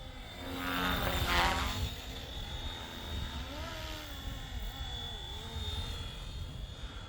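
A 3D-printed Flywing FW450 RC helicopter flies nearby with a steady rotor and motor whine that rises and falls as it passes, over a faint background hiss and no talk.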